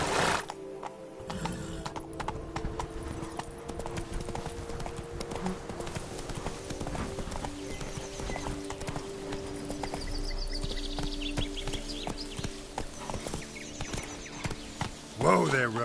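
Roach, the horse in the Witcher 3 video game, clip-clops steadily along with hooves close and clear, mixed with a whinny, game ambience and a voice speaking.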